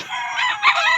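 Chickens on a gamefowl farm at Mount Arayat, with a rooster crowing loudly and close over steady clucking and hen calls, all without talk.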